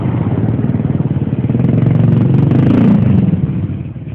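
A police patrol motorcycle engine runs close and loud, a steady throbbing rumble that swells slightly in the middle and eases off near the end, with no voices over it.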